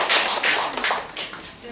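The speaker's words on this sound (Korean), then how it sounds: "큰 박수 부탁드립니다" An audience at a gut-health lecture claps for under two seconds, a brief burst of scattered applause that fades out quickly.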